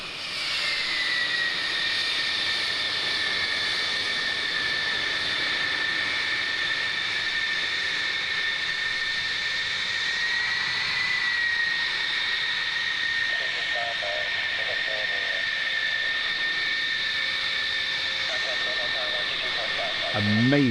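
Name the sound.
F-111 jet aircraft in archival D-Day anniversary footage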